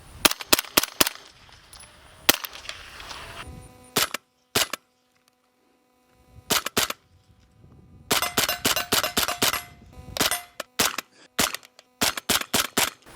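Rifle shots fired through a B&T Print X SD suppressor with a vented end cap come as sharp, close cracks in quick bursts of several rounds, separated by short silent pauses.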